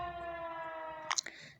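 A steady, tonal alarm siren from a nuclear alarm sounds phone app holds for about a second before a few sharp clicks and a brief burst break it off, fairly faint.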